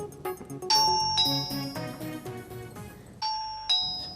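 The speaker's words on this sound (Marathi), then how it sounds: "बेल वाज" A doorbell in a home rings with clear, close ding-dong chimes, sounding several times in quick succession over quiet room noise.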